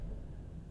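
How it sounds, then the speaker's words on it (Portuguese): A deep, low rumble of thunder from a storm in the video game Alan Wake 2, faint and continuous through the brief moment. "Ó, tá trovejando, hein?"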